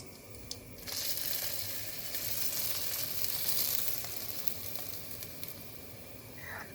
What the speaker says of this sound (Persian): مقداری روغن داغ میکنیم، رو سطح برنج میریزیم